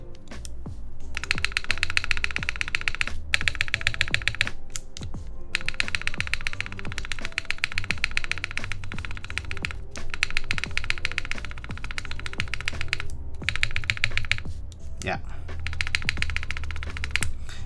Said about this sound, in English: it's definitely the spacebar bottoming out is what's happening here